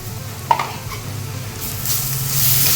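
Onions and curry leaves sauté in a pan for a Chettinad chicken curry, a close, steady sizzle broken by a sharp utensil clink, then the hiss swells louder as the leaves go in.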